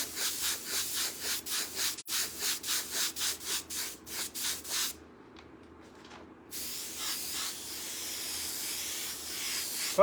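An airbrush lays a base coat on a hoodie, its spray heard as rhythmic hissing strokes in quick regular pulses, then a short quieter pause before a longer continuous hiss, close and fairly soft with no voices.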